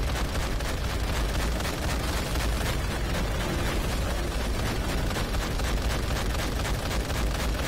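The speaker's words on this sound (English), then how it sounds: "I love this cannon." Heavy cannon fire in Call of Duty: World at War rolls on continuously, dense booming blasts merging into a loud, unbroken wall of explosive noise with no talking.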